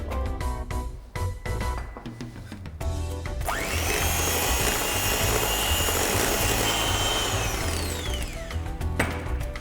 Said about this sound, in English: Now we were going to beat 4 eggs, just lightly beat them.